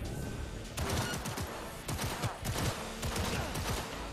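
Rapid bursts of tech weapon gunfire in Cyberpunk 2077, sharp repeated shots in clusters with brief gaps, loud and close, over a busy combat background.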